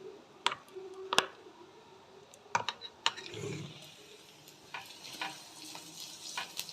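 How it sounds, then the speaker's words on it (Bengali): Onions fry in a pan for mustard greens cooked Punjabi style: a low, quiet sizzle runs throughout, with scattered sharp clicks and clatters of utensils. "পেঁয়াজগুলো ভাজা হচ্ছে।"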